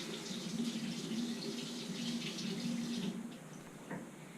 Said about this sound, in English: I'm going to fill this up with a few inches of water